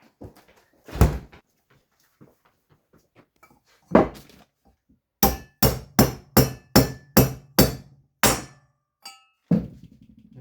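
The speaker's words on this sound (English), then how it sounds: "our cylinder head's up to temp, so let's go smash some guides into it" Valve guides hammered into a heated cylinder head for a 150cc engine build: a few scattered knocks, then a rapid run of about eight loud, sharp metallic blows in a steady rhythm, close up with no talking.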